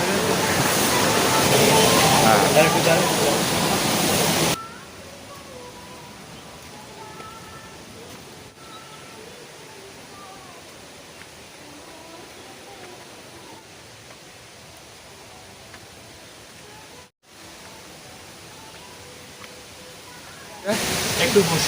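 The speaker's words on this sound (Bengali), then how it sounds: "আবার এদিকে নদীর জলের শব্দ দেখো বাহ এখান থেকে ভালো জল ভালো ফ্লো আছে" River water rushing over rocks in a hilly area of Panchalingeswar, a steady broadband flowing roar that grows loud at the start and end, with a quieter stretch in the middle.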